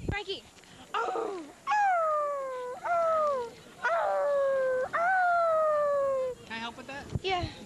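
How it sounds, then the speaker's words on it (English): A pug howls loudly and close by in several long, wavering, drawn-out notes, each rising then sliding down, with short yips and whines between them. "I can make him howl."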